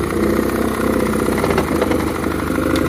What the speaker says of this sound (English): Give it a bit of revs there.